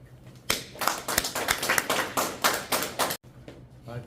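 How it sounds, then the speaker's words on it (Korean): An audience claps after a doctoral thesis presentation at a smart agriculture department: sharp, steady clapping from a small group starts abruptly, keeps an even rhythm for about three seconds, then cuts off, leaving quiet room noise. "발표 저 하고 나서 박수 누가 길게 치네"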